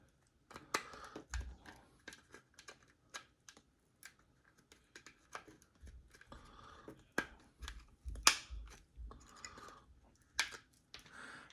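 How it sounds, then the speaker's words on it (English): Small plastic snips cut the excess off a plastic fake nut on a Hasbro Ghostbusters wand kit, producing a scattering of sharp, close clicks and snaps at irregular intervals with quiet pauses between. "Then you can snip off the excess of the fake nut here."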